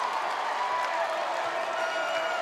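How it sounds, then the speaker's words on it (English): A basketball arena crowd at the Coliseum during a Morehead State at West Virginia college game roars in a steady, dense wash of cheering and applause, loud and sustained throughout. "Listen to this Coliseum crowd"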